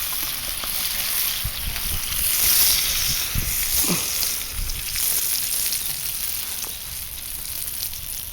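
Bacon frying in a pan at an outdoor weekend camp cooking fire, a steady broad sizzle with faint crackles and a few soft knocks throughout.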